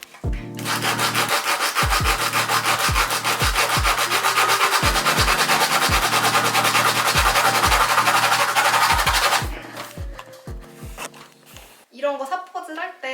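Sandpaper rubbing steadily against 3D-printed ball-jointed doll parts, a dense, close scratchy rasp with rhythmic strokes for about nine seconds, then trailing off into quieter handling.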